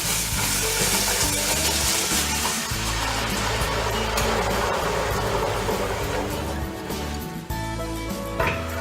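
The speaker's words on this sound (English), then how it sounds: "We're going to put the tomato paste in first because the tomato paste is going to cook out" Tomato paste and diced tomatoes sizzle steadily in a pan for a lamb spaghetti bolognese. A dense frying hiss runs under faint background music, with a few small clinks toward the end.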